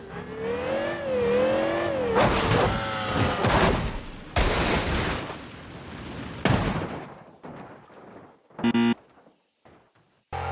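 Aston Martin DBS launched to 600 mph in the BeamNG Drive video game: a rising engine whine gives way to a chaotic run of loud crashes and crunching impacts, ending in brief sharp bangs.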